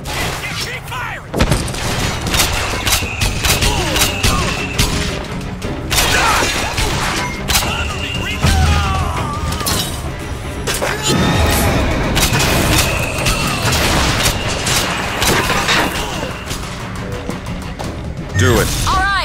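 Gunfire in the first-person shooter Bioshock Infinite, repeated sharp shots and clattering mechanical bursts in irregular volleys amid loud combat noise, with voices speaking in between.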